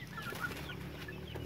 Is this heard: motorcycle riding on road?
no